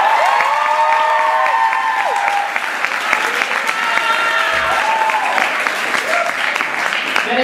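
Dense applause and cheering from an audience at a hip hop dance show, loud and continuous throughout, with a few whoops rising above the clapping.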